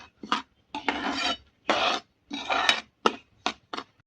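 Semolina (suji) roasting in a pan while a utensil stirs it, giving a series of raspy scraping strokes, seven or eight in an uneven rhythm with short pauses between, close and clear with no talking.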